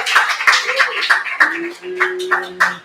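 Audience at an open mic comedy night clapping in a steady round of applause right after a comedian's set, loud and close, with voices calling out over it.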